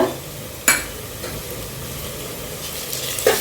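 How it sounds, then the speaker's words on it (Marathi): Onion, green chili and ginger-garlic paste sauté in a pan with a soft, steady sizzle, with a few sharp utensil knocks and scrapes during stirring. "कांदा थोडं चांगला तळलं गेलाय, त्याच्यात घालूया आता हिरवी मिरची, अद्रक लसूण चा पेस्ट"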